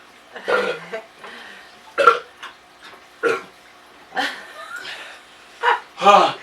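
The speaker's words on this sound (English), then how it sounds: "Oh, the burp hurt." A person burps several times in a row, short throaty bursts spaced a second or so apart, close and fairly loud with quiet gaps between.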